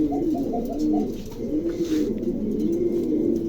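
A male pigeon coos repeatedly in a cage, sounding a little frightened after being moved from one cage to another; the close, steady, low cooing phrases run continuously with no other sound.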